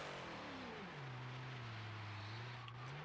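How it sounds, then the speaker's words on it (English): A drift car warms up its tyres at a drift competition, the engine holding a steady, loud drone that dips and then settles at an even pitch, close and continuous. "He's just warming his tyres up."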